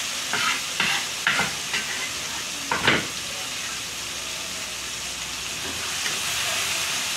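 Food being stir-fried in a pan over medium heat while making seblak: a few sharp scraping stirs early on, then a continuous hissing sizzle that stays steady and fairly close.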